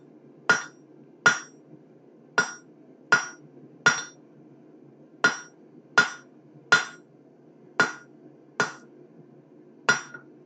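Hammer blows peening down a rivet on hand-forged blacksmith tongs: about a dozen sharp, ringing metallic strikes spaced roughly a second apart at close range, each decaying quickly over a quiet background hum.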